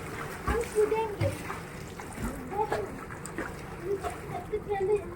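Children jump into a swimming pool, making several splashes of water spread across the clip, mixed with lively children's chatter close by.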